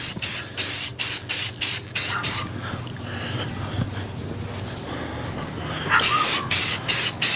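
Truck parts are spray painted in even coats: a rapid series of short, loud aerosol hisses at close range, a quieter pause, then another run of bursts.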